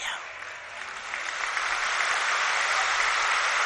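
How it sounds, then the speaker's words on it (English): Audience applause fills a spiritual gathering hall, dense sustained clapping that swells slightly and holds steady, with no voices over it. "Yes, you can clap."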